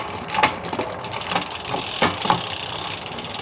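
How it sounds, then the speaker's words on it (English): A SRAM Force eTap AXS wireless electronic front derailleur on a gravel bike dropping to the small chainring, a few short mechanical whirs and clicks with chain rattle, close and moderately loud. "So push the button there, drops to the small chainring."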